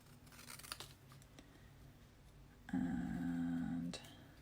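Scissors snip through paper bunting in a few quick crisp cuts early on, fairly close, followed by a brief louder tonal hum or whine near the end.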